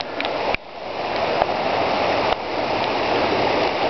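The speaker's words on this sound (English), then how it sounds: "I cannot believe how much water there is coming through here." Hurricane Ike floodwater rushing through woods in Valparaiso: a continuous loud gushing torrent with a few brief knocks, steady throughout with no voices.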